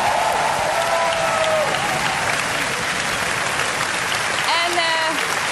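Warm, continuous applause from a large audience at the 1999 Dutch national Eurovision song final, steady clapping throughout with cheers and a few whistles cutting through, while a voice speaks under it.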